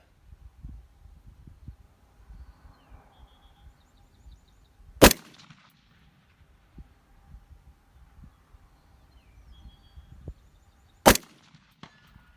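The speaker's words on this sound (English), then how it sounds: "That is the Cyclops right here at 200 yards that you're hearing those dings on it." Two sharp, loud metallic dings of rifle bullets striking a steel Cyclops target at 200 yards, spaced several seconds apart, each ringing briefly over a quiet background with faint low rumbles.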